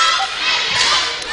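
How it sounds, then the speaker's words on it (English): Junior cheerleaders chanting at a varsity boys' game against Elmwood, a brief burst of high, bright youthful voices carried over steady crowd noise in a gym. "There's the junior cheer."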